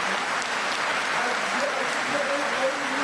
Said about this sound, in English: Gets a warm reception from the crowd inside the South Paris Arena.